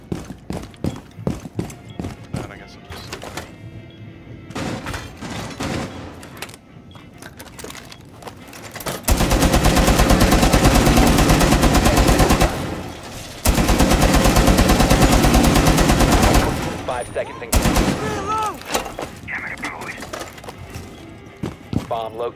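Sustained automatic machine gun fire in Rainbow Six Siege on the Chalet map, two long loud bursts of rapid rounds separated by a short pause, with game sounds and movement before and after.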